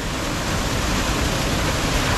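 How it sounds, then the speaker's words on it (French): A waterfall on the island of Dominica roars as a loud, steady, close rush of falling water that fills the whole clip with no other sound. "quand on voit cette cascade, c'est incroyable."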